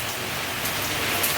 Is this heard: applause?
no